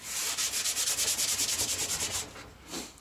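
Wood is sanded by hand with a sanding block for a gaming table build, a brisk rhythmic back-and-forth scratching of about a dozen close, even strokes, then a pause and one final rub.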